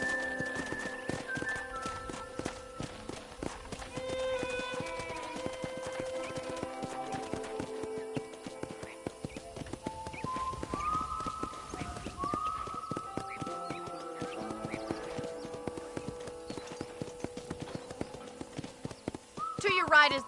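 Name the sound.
horse hooves clip-clopping while riding, from video game Red Dead Redemption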